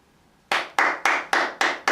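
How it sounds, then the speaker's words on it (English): Hand clapping during a fitness class, six sharp, evenly spaced claps close to the microphone, loud and crisp with nothing else heard. "Applause for you."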